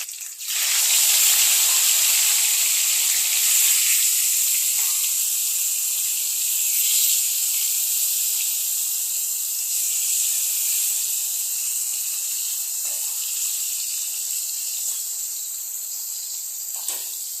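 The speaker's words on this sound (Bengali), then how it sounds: "তেলটা আমার গরম হয়ে গেছে, এখন মাছগুলোকে আস্তে আস্তে ছেড়ে দেব।" Pieces of rohu fish, heads first, slide into hot oil in a kadai and set off a loud, steady sizzling hiss. The hiss starts suddenly, stays even for the whole stretch and eases slightly toward the end, with no talking.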